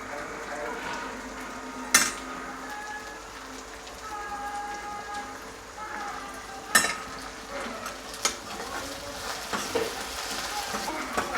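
Garlic sizzles in hot tempering oil in an iron pan with a steady crackling hiss, broken by a few sharp clinks of a spoon against the pan.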